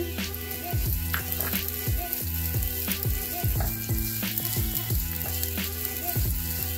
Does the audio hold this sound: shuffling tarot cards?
no